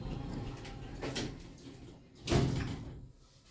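Doors of an Oakland (Mod. Tec) hydraulic elevator in a Matalan store in Southampton slide shut with a low rumble, ending in a single dull thud.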